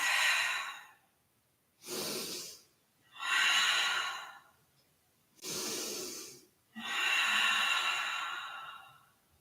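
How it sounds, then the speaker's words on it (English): Slow, deep yoga breaths, five long airy inhales and exhales alternating with short pauses, close and fairly soft, with no talking over them. "And we breathe."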